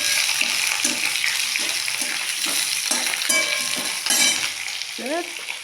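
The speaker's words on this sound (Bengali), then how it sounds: "আলুটা ছেড়ে দিলাম একটু নেড়ে চেড়ে।" Potatoes fry loudly in a pan of oil tempered with cumin and bay leaves, a constant bright sizzle broken by regular scraping stirs about twice a second, with no talking.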